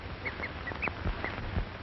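A cheetah in Africa gives its odd bird-like call, a series of short, high, chirping yelps repeated about a half second apart over a muffled, hissy 1930 recording with faint low thumps.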